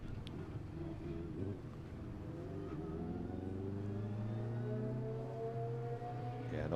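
A race car at an ICCR 2024 round approaches the final corner of the circuit, its engine note climbing steadily in a rising drone that grows louder and nearer, with no talk over it.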